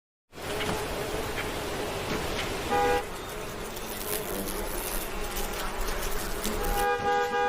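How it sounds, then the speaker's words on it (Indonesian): Short horn toots sound twice over a busy traffic hum, one around the middle and another near the end, moderately distant. "langsung teralihkan oleh suara klakson dari arah lain"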